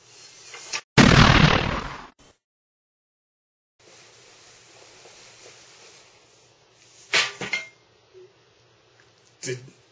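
Gunshot sound effect, one loud sharp blast with a decaying tail, followed by silence and then a few fainter clattering knocks, close up.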